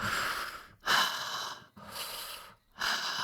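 Rapid breathing in a demonstration: four loud, close breaths alternate with short pauses in a quick, even rhythm, with no talking over them.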